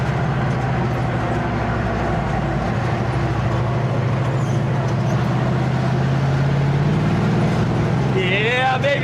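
A monster truck's engine roaring steadily and loudly while it drives, a constant low drone with rumbling road noise throughout and a rising whine near the end.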